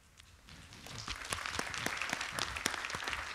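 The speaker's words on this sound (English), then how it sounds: "Man, you clap all after every question" Audience members at a convention Q&A session clap after a question, starting with a few sparse claps and building into moderate, distinct applause with sharp individual hand strikes standing out.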